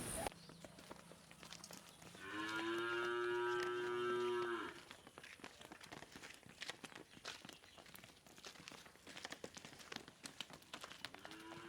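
A big Holstein dairy cow gives one long, loud, close moo lasting about two seconds, followed by faint shuffling and hoof sounds on a dairy farm.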